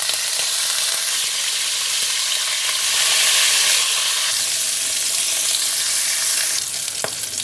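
Milkfish (bangus) fries in a pan with a loud, continuous sizzle and hiss, steady crackling oil close up throughout with no talk.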